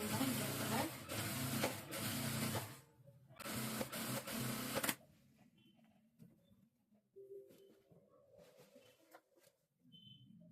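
Sewing machine stitching a saree into an umbrella dress, two loud bursts of rapid mechanical stitching close up, followed by quiet handling sounds and faint background noises.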